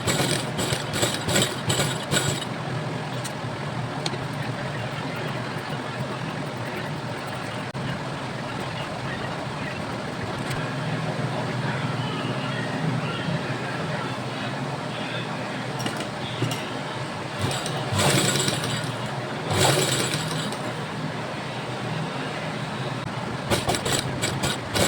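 A sewing machine runs steadily while stitching the neck of a kurti cut from a saree, a continuous whirring motor hum with brief bursts of faster rattling near the start and end.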